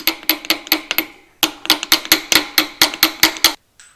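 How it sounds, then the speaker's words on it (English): A small hammer taps a bearing into a hydraulic pump on an Oliver Super 55 tractor. Sharp metallic strikes come in two quick rhythmic bursts, about fifteen blows in all, close and clear with a short pause between the bursts. "this is where a small little hammer comes in handy"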